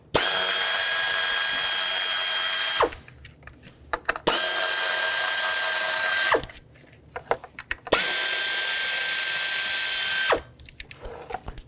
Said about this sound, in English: now use a 10mm socket, unbolt the bolts that hold these ignition coils on